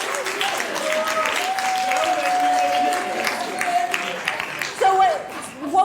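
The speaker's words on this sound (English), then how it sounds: "And round of applause for Chella." An audience at a community theatre gathering applauds in a steady, moderately loud wash of clapping, with voices talking over it and a few sharper claps near the end.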